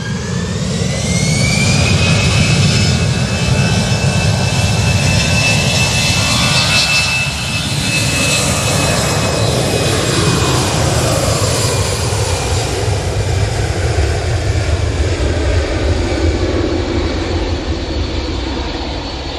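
An Atlas Air Boeing 747 at Manchester Airport roars loudly and steadily, its jet engines producing a broad continuous rumble with a rising then level whine that holds throughout.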